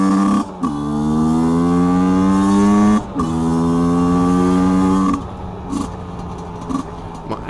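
Small HM CRM125 supermoto motorcycle engine revving hard while being ridden, two long rising high-pitched revs broken by gear changes, then settling to a rougher, quieter running note near the end; loud and close, no talking.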